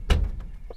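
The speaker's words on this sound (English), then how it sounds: "So let's get the door shut." A small aircraft's cabin door shuts with one solid close thump, followed by faint rattles of the latch settling, close by and brief.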